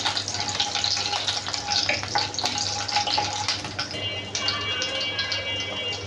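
Whole spices such as dried chilli, cardamom, cinnamon, cloves and bay leaf crackle and sizzle in hot oil, stirred with a steady dense frying hiss and no voices.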